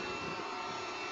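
A motorized giraffe robot starting up at Maker Faire, giving a steady, loud motor whir with a broad hissing roar that holds evenly throughout with no voices.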